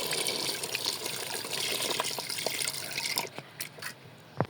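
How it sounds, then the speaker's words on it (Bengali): Water poured into cooked, mashed lentils, a continuous splashing and gushing pour that fades out near the end, followed by a few brief knocks and drips. "এখন পানি দিয়ে দেবো।"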